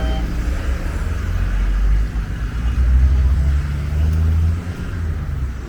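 Cars and trucks driving along a warm city street in Ivory Coast, many of them Chinese-made vehicles, giving a continuous close traffic rumble with engines swelling and fading.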